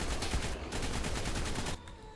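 Primitive assault rifle fire in ARK, a dense automatic burst of rapid shots continuing for most of the span, then cutting off abruptly with quieter game ambience after.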